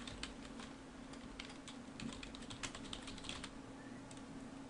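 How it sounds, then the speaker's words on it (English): Fingers tap out a short name on a computer keyboard as a contact is searched in database software, a quiet, quick run of clicking keystrokes over faint room hum. "Now if I go in here and I just type Benny Lender"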